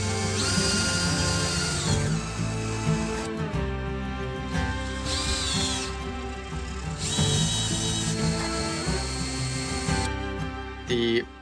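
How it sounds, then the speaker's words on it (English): A power drill whines in long, loud bursts, drilling holes through a metal plate to mount it on a truck camper wall, stopping and starting several times, with clattering and mechanical rattling in between. "drill holes that will go through the plate and will attach the plate to this retaining wall"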